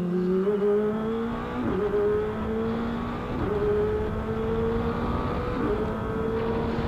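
A Kawasaki ZX25R four-cylinder motorcycle engine revs high and steady, its pitch rising, dipping briefly at each of several quick gear shifts, then climbing again, close and loud with no talk.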